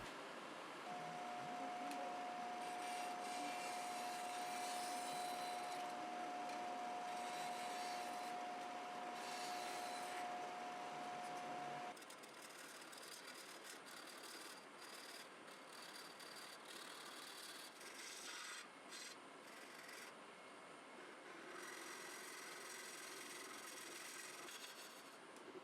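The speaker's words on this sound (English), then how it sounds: "After truing up the tenon, I found out that it was a little too small for the chuck." A wood lathe spins a bowl blank as a tool trues up the tenon, with the bowl pressed against the chuck by the tailstock, giving a steady broadband whirr and scraping hiss throughout that eases slightly partway through.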